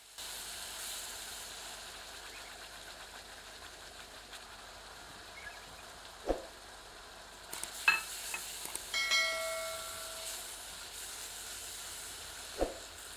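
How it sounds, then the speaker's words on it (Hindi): Ground onion fries in a pan over medium heat, giving a soft, steady, faint hiss. Occasional light clinks and stirring knocks break through. "आंच मध्यम रखते हैं एवं इस प्याज को सुनहरा रंग में परिवर्तित होने तक भून"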